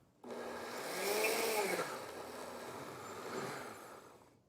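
Countertop blender whirring as it purées corn kernels with cornmeal, yogurt and sweetened condensed milk into corn cake batter, a steady loud motor roar that swells and dips slightly over several seconds with no talking.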